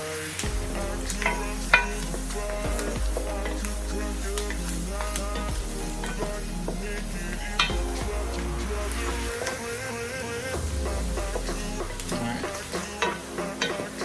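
Roux and onions for chicken and sausage gumbo sizzle steadily in a pot while being stirred continuously, with repeated scraping and clinks of the spoon against the bottom, close and even, and a low hum beneath.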